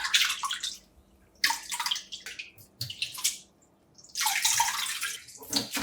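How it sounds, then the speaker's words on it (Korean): Sea lettuce seaweed gets rinsed in several changes of water, with bursts of splashing and sloshing between short quiet gaps and a longer churning stretch near the end, close by. "물을 갈아가며 3번 정도 깨끗이 헹궈내고"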